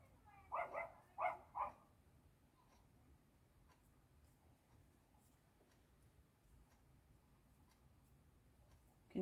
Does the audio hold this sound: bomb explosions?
no